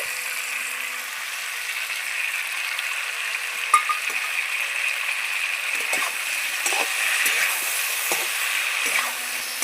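Tangra fish stir-fried in a pan with a fried spice paste, giving a constant loud sizzle under scattered scraping and knocking strokes of a spatula, close and without speech.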